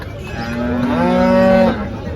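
A cow at the Chalisgaon cattle market gives a single loud, drawn-out moo lasting over a second, close by, with a low murmur of the market behind it.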